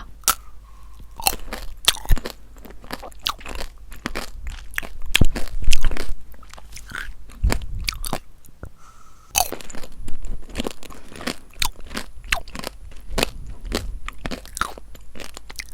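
Tanghulu candied fruit bitten and chewed up close, with a steady run of sharp, glassy crunches and crackles at an uneven rhythm and no talking.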